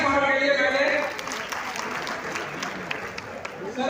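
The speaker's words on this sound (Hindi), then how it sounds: "तालियां सर के लिए पहले।" Audience applause for a professor at a university Teacher's Day address, a burst of clapping that starts strongly and then softens into a lighter patter, with a voice speaking over the opening moments.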